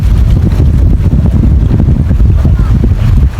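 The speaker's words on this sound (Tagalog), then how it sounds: "Ang sarap ng simoy na hangin" Steady, loud wind rushing across the microphone outdoors, a continuous low rumbling buffet with no clear pauses.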